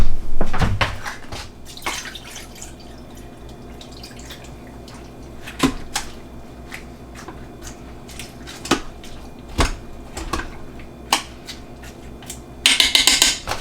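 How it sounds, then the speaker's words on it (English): Water runs into a cooking pot in a homestead kitchen, a steady hiss broken by sharp metallic clanks and knocks of the pot and utensils, with no one talking. "So for the water, I'm just going to fill this up and that should do it."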